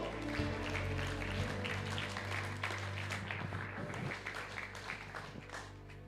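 A church congregation breaks into applause during a men's congress service, a full, steady clatter of many hands clapping over a low sustained musical drone, thinning into scattered claps near the end.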